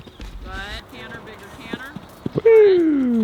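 Horse hooves clip-clopping during a jumping session, a few sharp separate hoof strikes close by, mixed with people talking and a loud whinny toward the end.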